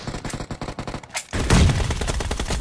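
Gunfire in the mobile battle royale game PUBG Mobile, a rapid rattle of automatic shots that gives way to a louder, denser burst of fire, close and continuous throughout.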